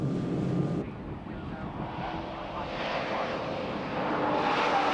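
A VW Vento VR6 race car accelerates around the Castle Combe circuit during a 1994 Challenge race, engine drone rising under buffeting wind noise, moderately distant and sustained.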